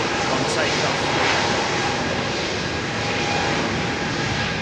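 An airliner with Pratt & Whitney engines takes off at London Heathrow and banks left. A loud, continuous broadband engine roar fills the whole stretch without letting up.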